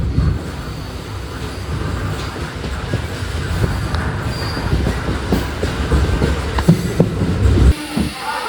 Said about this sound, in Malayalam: കുളിത്തുറൈ റെയിൽവേ സ്റ്റേഷനിൽ ഇപ്പം നമ്മുടെ വണ്ടി എടുക്കും